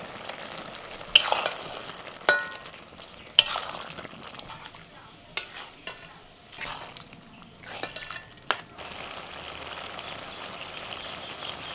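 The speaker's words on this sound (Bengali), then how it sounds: "এবার পোস্ত বাটাটা দিয়ে দিচ্ছি।" Poppy seed paste stirred into boiled potatoes and onion greens in a pan, a spoon scraping and clinking against the metal in irregular bursts over a soft continuous sizzle, close and fairly loud.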